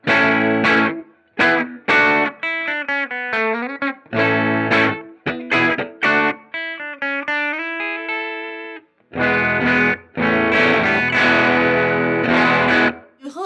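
An electric guitar plays chords and melodic runs through a germanium boost pedal with a lightly overdriven, slightly gritty tone, loud and close, with brief pauses between phrases.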